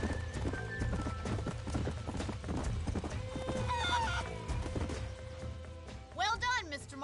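Galloping horses in the Red Dead Redemption video game pound out rapid, rolling hoofbeats, ending with a loud, quavering neigh; voices are heard briefly under the hooves.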